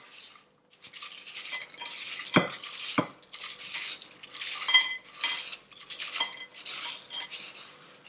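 Crunchy fried tortilla strips handled in a pot of tortilla soup, with repeated crisp crackles and the clink and scrape of a metal utensil against the pot, all close up with no voices.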